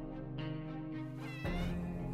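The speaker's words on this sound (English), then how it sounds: "the cat just meowed" A cat in the video game 60 Seconds Atomic meows, a drawn-out tonal meow followed by a second, louder rising meow, clear against a quiet background.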